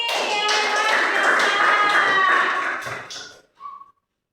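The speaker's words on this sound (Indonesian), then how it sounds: "Tepuk tangan dulu untuk hari ini" A classroom of students claps and cheers together at the end of an Islamic religious education lesson, a dense steady burst with voices mixed in, then fading out with a short whistle-like tone.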